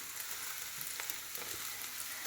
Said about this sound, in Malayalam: നമുക്ക് ബാക്കിയിരിക്കുന്നതും കൂടെ ഇങ്ങനെ ഫ്രൈ ചെയ്തെടുക്കണം